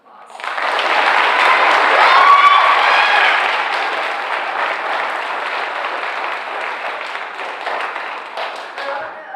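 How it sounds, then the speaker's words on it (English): An audience applauds at an 8th grade elementary promotion ceremony, dense steady clapping from many hands that swells early, then gradually thins and fades. "Please give them another round of applause."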